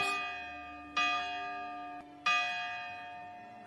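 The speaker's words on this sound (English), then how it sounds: "when a morning church bell rings" A church bell rings twice, each strike loud and resonant with a long, shimmering decay, heard alone.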